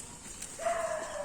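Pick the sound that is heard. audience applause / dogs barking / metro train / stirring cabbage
dogs barking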